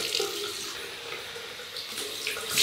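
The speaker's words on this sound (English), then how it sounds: "Ice water rinse." Water runs steadily from a bathroom tap into a sink for an ice-water rinse after a shave, a close, continuous rushing splash that swells slightly near the end, with no talking.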